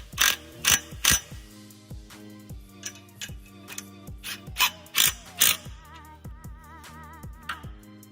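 A ratchet tightens bolts on a stand frame, repeated rapid metallic clicking bursts in quick strokes, close and loud, with no speech.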